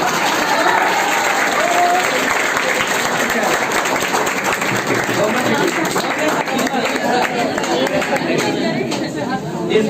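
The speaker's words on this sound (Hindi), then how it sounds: "बाबा के दरबार के लिए ताली बजाते हैं।" A classroom of students claps together in a loud, sustained burst of hands, with murmured chatter mixed in throughout and the clapping thinning slightly near the end.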